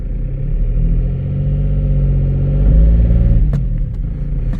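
A Skoda Fabia 1.4 TDI PD80 diesel with rear brakes stuck on rumbles loudly and steadily up close as it is rocked back and forth, the engine note swelling briefly before easing off with a couple of sharp clicks near the end.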